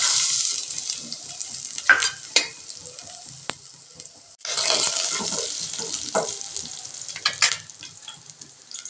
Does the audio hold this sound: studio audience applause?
no